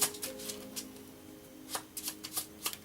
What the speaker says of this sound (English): Pull another card on that.